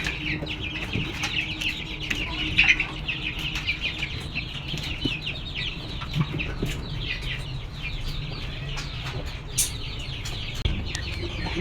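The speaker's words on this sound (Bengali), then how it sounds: "একদম ফ্রেশ দেশি মুরগির বাচ্চা" Desi chickens, young chicks and hens, cluck and cheep steadily at close range, with scattered chirps and a few louder calls over a constant farmyard background, and nobody speaking.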